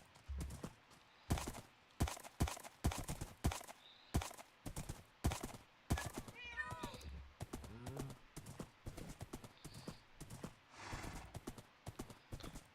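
Horse hooves clip-clop in a Minecraft-style video game, a series of sharp, evenly spaced hoof clops that are loud and close, with brief game sounds and a faint neigh in between.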